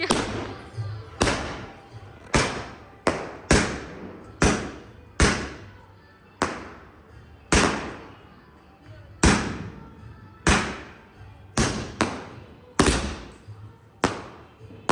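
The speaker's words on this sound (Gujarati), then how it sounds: "ફટાકડો મૂકી જે ઉપર જઈને ફૂટે અને વાયરમાં નો અડે" A series of sharp firecracker bangs, about a dozen loud explosive bursts at irregular intervals, each with a short decaying tail, with no voices.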